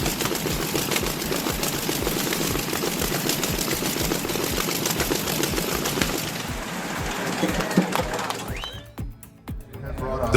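A massive old vintage aircraft engine running after a cold start, a loud, dense, continuous roar with rapid pulsing firing beats that cuts off abruptly near the end, leaving scattered clatter.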